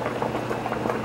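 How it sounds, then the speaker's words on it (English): Water comes to a rolling boil in a cooking pot, giving a steady, close bubbling and gurgling for about a second with no talk. "Make sure your water is boiling just like that."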